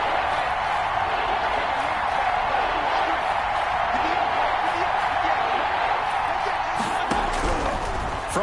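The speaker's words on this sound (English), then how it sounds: "the crowd getting into it as we come up on a big third down" Football stadium crowd roaring ahead of a big third down, a dense, steady wash of cheering throughout, with a few louder whoops late on.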